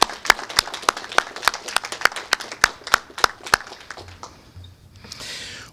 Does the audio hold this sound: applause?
yes